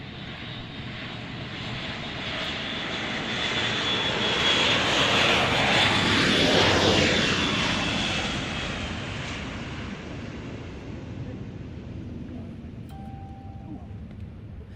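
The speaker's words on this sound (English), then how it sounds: "what we're going to see is all of the aircraft in the correct order" Aircraft arriving at the Royal International Air Tattoo air show roar past as a fixed-wing engine swells, peaks loudly overhead midway, then fades into the distance, with a faint background murmur.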